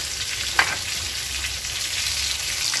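Tilapia fries in a pan, its second side crackling in a steady, continuous close sizzle, with a single sharp tap of a utensil early on.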